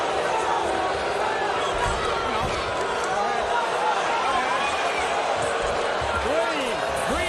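A packed arena crowd at the 2024 NCAA wrestling championships lets out a sustained collective moan, a steady roar of many voices that stays loud from start to finish.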